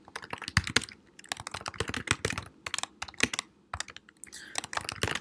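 Fast typing on a computer keyboard while writing Android code, with close, crisp key clicks in quick irregular bursts and short pauses between them.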